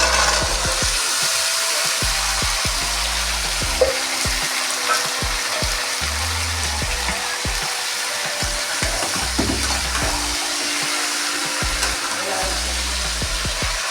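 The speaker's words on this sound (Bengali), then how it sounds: "এবার আলুটা দিয়ে দিলাম" Potatoes frying in a pan, a long steady sizzle with a low humming drone in the background and occasional clatter from stirring, no speech.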